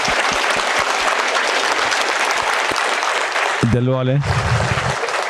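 An audience claps loudly and steadily throughout a youth gathering, a dense continuous wash of applause, with a brief spoken voice breaking in near the end.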